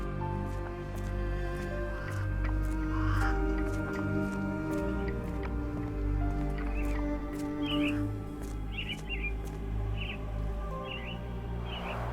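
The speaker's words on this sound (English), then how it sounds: "Minor birds, if I'm not mistaken. Beautiful creatures. Sad that they're caged here." Caged mynah birds call in Sherlock Holmes: The Awakened, with a few short bright chirps and twittering bursts rising above a steady layer of background music and ambience.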